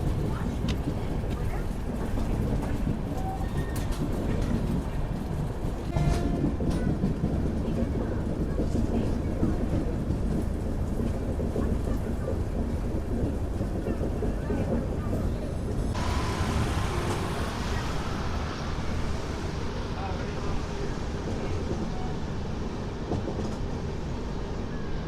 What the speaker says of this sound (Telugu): సో మన ట్రైన్ వచ్చేసి తిరుపతి నుంచి అయితే బయలుదేరింది